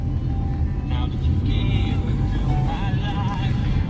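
A car, either a 2015 Toyota Avanza E or a 2014 Ford Fiesta, cruises at 140 on a loaded test drive, with a steady road and engine roar filling the cabin while faint voices talk underneath.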